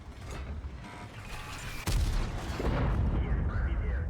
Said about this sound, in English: that was a nice double shot